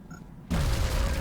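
A grenade detonates in the XCOM strategy game, a sudden loud boom after half a second of quiet that rolls into a sustained, dense rumble lasting to the end.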